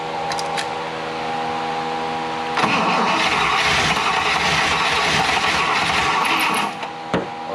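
A 1960 Buick flattop engine cranks loudly and up close, the starter churning steadily before the engine catches into a rough, rising roar that sputters and falters near the end, with no voices.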